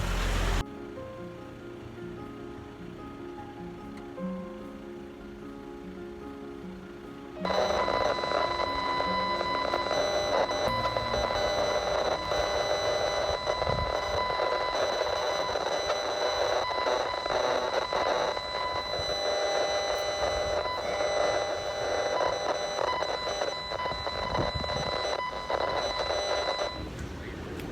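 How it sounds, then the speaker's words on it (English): A radio frequency detector gives a steady electronic buzz and hiss that jumps louder and brighter after a few seconds. Fine tonal lines run through the noise, with faint periodic sweeps from airport radar in Majorca. "besides the usual gargle of radio frequency radiation, there was a sweep you could hear"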